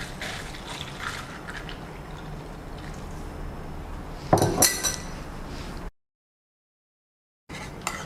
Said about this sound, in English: Pour your Thai milk tea into the cup.